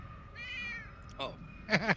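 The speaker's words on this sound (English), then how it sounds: "I thought that was Brad's cat making that noise" A cat meows twice in quick succession, close and fairly clear, with a low background hum and faint room noise around it.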